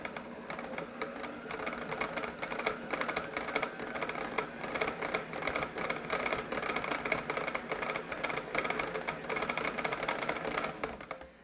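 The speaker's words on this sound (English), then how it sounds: "we're going to turn the mixer up just a little bit and turn it up slowly" An electric mixer beats butter and sugar for a sweet bake. Its close, continuous rattling whir runs without a break and cuts off abruptly at the end.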